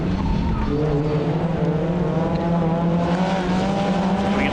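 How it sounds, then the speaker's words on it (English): Suzuki Swift rallycross cars racing at Pembrey give a steady, loud engine roar with rising revs, continuous and without pauses, heard alone. "Here come the Suzuki Swifts then up to lap the Citroen"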